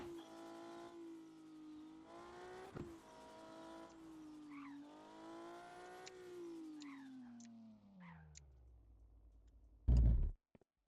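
A car engine in the video game Car for Sale hums and rises through several gear shifts, then winds down toward idle, ending in a sharp loud impact; no talking.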